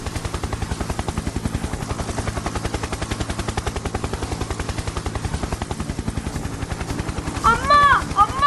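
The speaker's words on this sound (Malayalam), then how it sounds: "ഹെലികോപ്റ്റർ വന്നു" A helicopter passing overhead, its rotor beating in a loud, fast, even chop that stays strong throughout, with a brief burst of other sound near the end.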